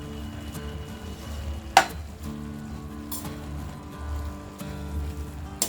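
A radish curry is stirred in a pan. A soft sizzle runs underneath, with occasional spoon scrapes and knocks against the pan, fairly quiet and close.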